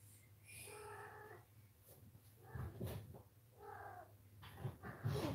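A house cat gives drawn-out yowling, caterwauling cries during a play attack. The cries come in two separate bursts, fairly close, with soft thumps and rustling in between.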